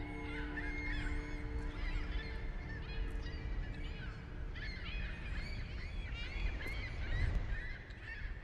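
Geese honk repeatedly in a video game about a lighthouse keeper, a steady run of calls over a continuous ambient background, with a slightly louder burst near the end.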